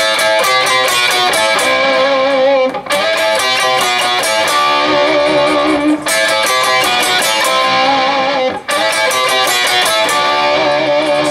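Guitar plays a riff in loud, distorted, sustained phrases, with brief gaps between repeated runs and no talking.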